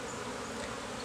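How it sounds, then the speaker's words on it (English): Honeybee worker bees in an open hive give a dense, close, continuous buzzing hum, steady and loud throughout the brief moment with no talking. "We got a lot of worker bees."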